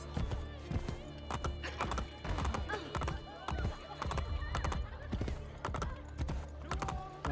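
Horse hooves clip-clop steadily through Assassin's Creed Brotherhood gameplay, with a whinny breaking in, someone talking over the game sounds throughout.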